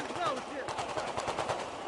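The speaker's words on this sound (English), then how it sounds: "There is a tremendous amount of celebratory gunfire." Bursts of celebratory machine-gun fire in Tripoli's Green Square, rapid repeated cracks at middle distance over a noisy crowd, with overlapping voices.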